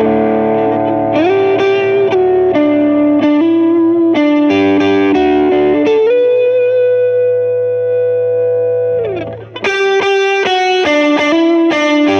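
An electric guitar plays through an overdrive pedal while its tone knob is swept, giving single-note lines and bends with a long sustained note, then a brief dip and a brighter burst of notes, played alone at strong volume.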